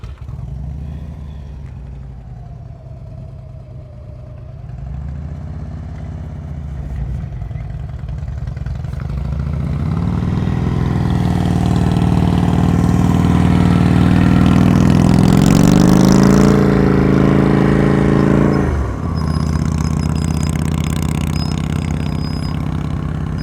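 A motorcycle engine idles low in first gear during slow-speed riding practice, then swells into a long, loud rev that peaks and drops back suddenly, close to the microphone with no talk over it.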